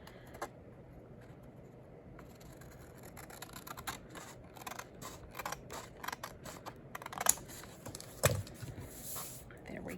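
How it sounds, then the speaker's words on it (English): Scissors trim excess paper off a page in a series of faint, quick snips and rustles, close but quiet, with a few sharper clicks near the end. "we're just gonna trim that off"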